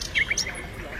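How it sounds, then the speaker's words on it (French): Birds chirp and tweet in short high calls in Hann Park, a green park in Dakar, faint against a low background rumble. "Entre les sons de la nature et le chant des oiseaux"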